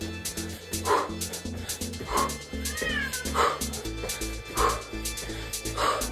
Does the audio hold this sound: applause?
no